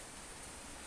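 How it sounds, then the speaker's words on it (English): Heavy rain pouring down outside, a steady dense hiss with no breaks, moderately loud and unbroken throughout. "It is raining heavily here"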